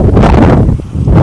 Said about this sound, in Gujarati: પવન પણ બહુ આવે હો